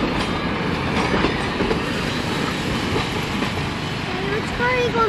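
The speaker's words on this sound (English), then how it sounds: "This is a typical tourist train consist for the Hoosier Valley Railroad Museum." A tourist train at the Hoosier Valley Railroad Museum rolling along, including an open-air flat car, giving a steady rumble with rhythmic clickety-clack of wheels on rail and brief wheel squeals near the end, with a voice talking over it.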